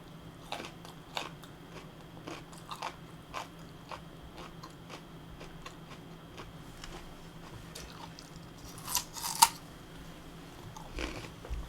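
Raw radish is bitten and chewed near the mouth, with repeated sharp crunches scattered through a quiet room and a louder burst of crunching toward the end.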